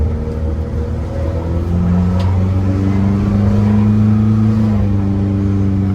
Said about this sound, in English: let's drive around the block.